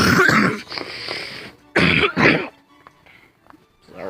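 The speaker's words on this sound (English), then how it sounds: "I have a cold. Sorry for the cough." A person with a cold coughs and clears their throat in two loud, close bursts, a short one at the start and a heavier cluster a moment later, then fainter rasping noises trail off.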